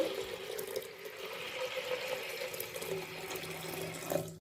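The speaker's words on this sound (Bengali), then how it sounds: "দিয়ে দেব পরিমাণ মতো জল" Water runs steadily from a tap into a cooking pot for dal makhani, a continuous close splashing wash of moderate loudness that ends abruptly, with no talk over it.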